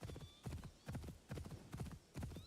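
Horse hooves clip-clop in the video game Assassin's Creed Shadows, a faint, regular pattern of grouped hoof strikes repeating about every half second.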